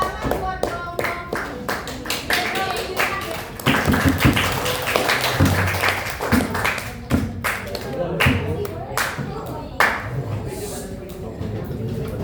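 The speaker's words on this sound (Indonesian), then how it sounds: "Tepuk tangan buat kelompok" Classmates in a school classroom clap for a presenting group, a burst of hand claps and taps that fades in and out over a dozen seconds, with voices talking over it.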